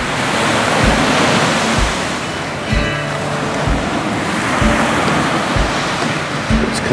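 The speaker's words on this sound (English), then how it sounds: "see this wave break, breaking in the sandbar" Ocean waves break on a sandbar off Panama City Beach, with a continuous loud roar of surf and wind rumbling against the microphone.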